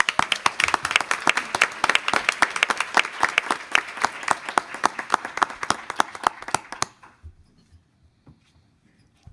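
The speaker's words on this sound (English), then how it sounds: "I'd like to give them all a nice round of applause." Audience applause at a school board meeting, steady dense clapping from a room full of people for about seven seconds before it abruptly dies away to near silence.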